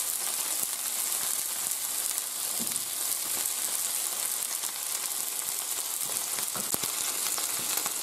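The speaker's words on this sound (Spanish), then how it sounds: "Se le da la vuelta para que se selle por todos los lados, pero no se tienen que freír mucho." Seafood for paella sears in a hot pan, giving a steady, close crackling sizzle with occasional pops and stirring clicks, with no talk.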